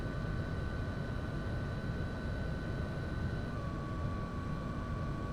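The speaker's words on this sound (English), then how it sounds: "We shut off the helicopter" A steady, droning helicopter engine with a constant whine in Flight Simulator X holds an even level throughout, close and continuous with no talking.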